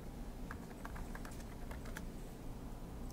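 Someone types on a computer keyboard while searching a map. The keystrokes are rapid and close, clicking steadily over a constant low background hum.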